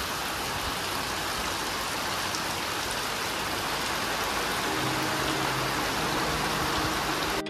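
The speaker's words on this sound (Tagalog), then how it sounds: "malakas yung ulan" Heavy rain falls in Sagada in the Philippines as a dense, steady hiss that runs evenly from start to end. A faint low hum joins it near the end, and no voices are heard.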